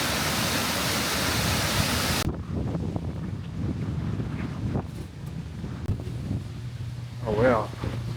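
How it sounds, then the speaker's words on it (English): A Lake District waterfall roars as a broadband rush, loud and close at first, then the noise drops away abruptly and continues more softly beneath footsteps and a brief voice. "There's a waterfall."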